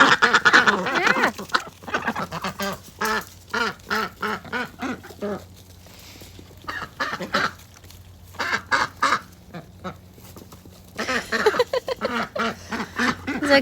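Ducks quack in irregular bursts of loud, close calls, broken by short quiet gaps, with a dog nearby.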